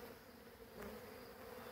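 Honey bees swarming over wax uncappings after a honey harvest, a steady faint buzzing hum with no voices.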